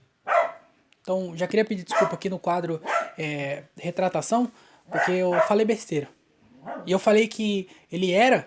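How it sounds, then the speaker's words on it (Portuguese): A dog barks intermittently in the background while someone talks almost continuously over it, the barks partly masked by his voice. "Olha o cachorro latindo."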